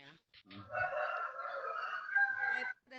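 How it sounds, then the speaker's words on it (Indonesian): A single long rooster crow rings out, rising and then sustained for about two seconds, picked up faintly through a microphone during an online meeting call. "Ada suara ayam."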